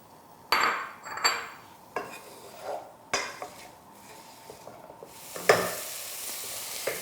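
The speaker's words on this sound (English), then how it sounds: "take your onions, put them in the pot, and you want to cook them for at least about 5 minutes or so" Onions being stirred in a pot during a chef's cooking demonstration, with soft sizzling and several sharp utensil scrapes and knocks against the pot, close and fairly quiet, no talking.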